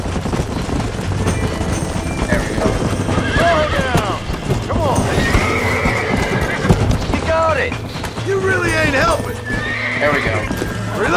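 In the Red Dead Redemption video game, a horse's hooves clip-clop steadily and it gives several whinnies and neighs, loud and close, with someone talking over them.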